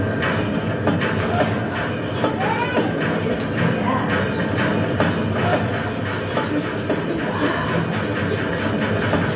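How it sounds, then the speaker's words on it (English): A train rolling along with a steady, dense rumble and faint rhythmic clatter of wheels, continuous and fairly loud throughout. "let's see if we hear any more train sounds"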